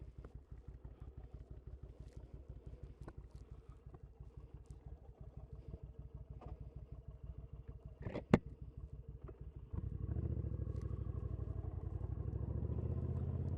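A Suzuki Intruder VS 1400, a 1400 cc cruiser, thumps along in a steady low pulsing idle, then grows noticeably louder and denser for the final few seconds as it pulls away.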